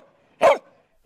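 A rescue dog, a border collie, gives one sharp, loud bark close by, followed by quiet and the start of another bark cut off at the end.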